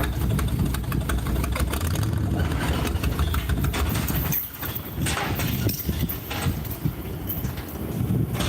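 Old vehicle engine idling roughly with a chain-like rattle inside, a steady loud chugging rumble with irregular knocking that dips briefly midway, outdoors with no talk.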